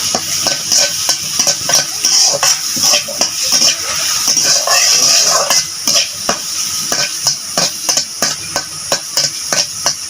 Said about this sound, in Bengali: একটু হলুদ দিয়ে দিলাম ভেজে নিতে হবে